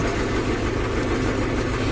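A YUMZ-6 tractor pulls a PLN 3-30 plough through a field for wheat sowing, its engine a loud, continuous low rumble under heavy load, steady throughout with no voices.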